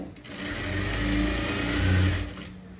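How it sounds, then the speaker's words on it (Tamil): A sewing machine stitches along the edge of a blouse with a continuous, fairly loud motor whir that runs steadily for about three seconds. "உள்ளே திருப்பி இந்த எட்ஜில் தையல் போட்டுக்கோங்க"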